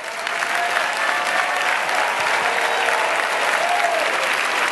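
An audience at a business presentation applauds steadily and loudly, a dense sustained clapping that fills the room from start to finish with no voice on top.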